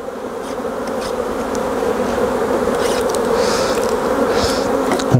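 Honey bees tapped off a queen excluder during a hive inspection fill the air with a steady, dense droning buzz, close and continuous, with faint scraping and handling sounds flickering over it and no voices.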